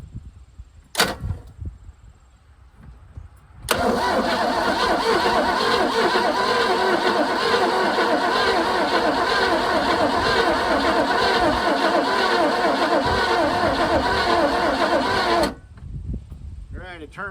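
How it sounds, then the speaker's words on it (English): A 1978 Jaguar XJS fitted with a Corvette engine cranks over with a loud, rhythmic starter churn lasting about twelve seconds without catching, preceded by a sharp click and followed by quiet. "I'm going to hit the key and see if it turns over."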